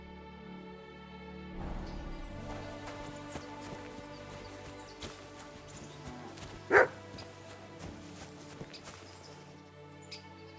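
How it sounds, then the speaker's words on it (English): A dog in the video game Kingdom Come: Deliverance II barks once, loud and sharp in the middle, over a quieter bed of game ambience and footsteps, with no talk. "Barking."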